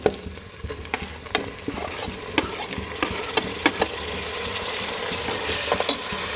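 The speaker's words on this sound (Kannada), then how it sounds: "ಈಗ ನಾನು ಟೊಮೊಟೊ ಹಾಕ್ತಾ ಇದ್ದೀನಿ" Tomato fries with browned onions in a pan for restaurant-style chicken dum biryani, a close, even sizzle punctuated by frequent sharp spatula clicks and scrapes against the metal, without any talking.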